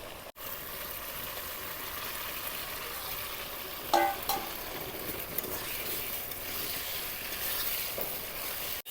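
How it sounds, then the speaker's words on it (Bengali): Taro frying in a pan with spices and oil, giving a steady, close hiss of sizzling with a brief stirring clatter midway and no voices. "কচুটা দিয়ে কিছুক্ষণ সময় ভাজে নিলাম"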